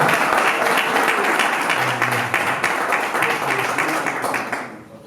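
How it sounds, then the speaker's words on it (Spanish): Steady, dense applause from an audience at a talk on artificial intelligence in Latin America, many hands clapping continuously and loudly before fading out near the end. "Aplaudan ahí si quieren para estar seguros, pero ahora sí con fuerzas"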